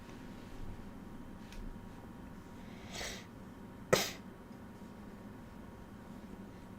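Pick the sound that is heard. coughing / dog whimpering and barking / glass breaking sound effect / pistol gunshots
coughing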